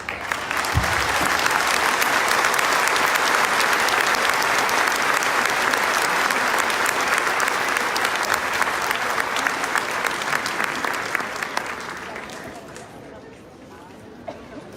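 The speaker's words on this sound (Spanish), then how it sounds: "fuerte el aplauso para el Padre Eduardo Aguilar" Applause for a priest after his talk at a church gathering: a dense, steady burst of clapping from a crowd with some chatter mixed in, holding strong for about twelve seconds before fading away.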